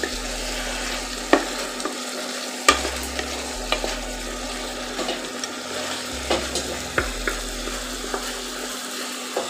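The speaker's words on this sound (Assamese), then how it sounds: "এইখিনিতে মই অকণমান ভালদৰে লৰাই দিম" Local chicken curry cooking in a pan and being stirred, with periodic spoon scrapes and knocks over a soft continuous sizzle and a low background hum, no speech.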